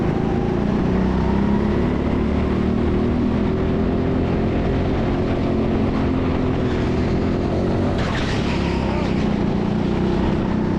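Go-kart engine droning steadily through a lap at the TeamSport Sheffield indoor track, a loud continuous buzzing whine with small pitch shifts as the kart brakes and accelerates, close and unbroken throughout.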